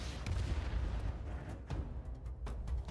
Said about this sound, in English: What, a flintlock pistol?